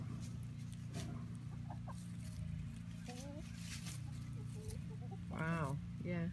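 A Wyandotte hen clucks outdoors and makes soft chattering calls now and then, with a few louder warbling notes near the end over a steady low background hum.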